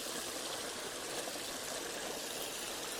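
Water flowing over a weir in a woodland stream at Stanley Burn Wood near Prudhoe, a soft, even rushing hiss that holds steady and faint throughout, with no voices.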